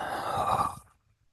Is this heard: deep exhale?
yes